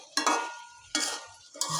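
Flat beans with fried hilsa fish resting on top are sautéed in a pan, with three quick scraping stirs of a utensil, each a short bright rasp with sizzle fading between.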